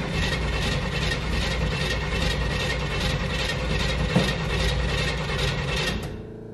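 A pro street Pontiac Starfire's engine is cranked over by the starter, a loud, rapid, rhythmic mechanical churning that runs for about six seconds and then cuts off abruptly.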